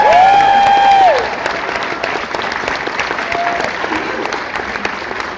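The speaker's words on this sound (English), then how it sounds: "we're all going to cheer again" Cinema audience at a post-screening Q&A in Glasgow cheers and applauds loudly, a shrill whistle rising over the crowd at first, then steady broad clapping continuing throughout.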